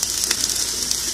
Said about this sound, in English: I still hear it sizzling.